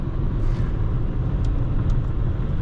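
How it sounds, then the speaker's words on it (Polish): A 2001 Peugeot 607 3.0 V6 accelerating, heard from inside as a loud, steady low engine rumble with road noise, continuous and without speech. "Zbiera się ten samochód fajnie, tak mniej więcej, ja wiem, od 3000 obrotów już zaczyna maszyna iść"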